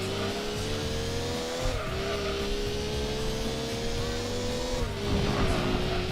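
Gran Turismo 2 race cars howl through the final endurance race on Special Stage Route 5, their engines droning steadily with pitch dips on gear changes and occasional tire squeal, with a faint background voice.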